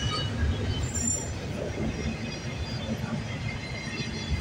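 A CN intermodal freight train, symbol Z148, rolls past at close range, its steady broadband rumble of wheels and cars holding loud and even throughout with no talk over it.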